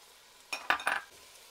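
Garlic and tomato paste hit a hot pan of vegetables while braising beef short ribs, giving three quick, close bursts of sizzling and stirring against a quiet kitchen background.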